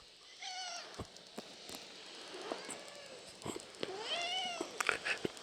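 Franklin, a gentle farm cat, meows several times, the calls rising and falling in pitch, close by, with soft thumps and handling noises between them.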